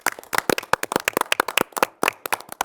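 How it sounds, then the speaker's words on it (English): A small group at a city council meeting clapping in quick, uneven bursts for a few seconds, sharp hand slaps overlapping with no voices. "So, go ahead and clap that up."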